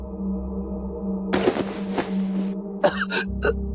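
Repeated raspy coughs over a steady humming drone, first a longer rough bout, then a few shorter coughs, close and moderately loud.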